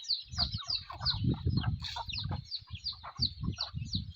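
A mother hen clucks in low repeated bursts while her chicks give high, rapid peeping chirps throughout, close and lively, with no voices.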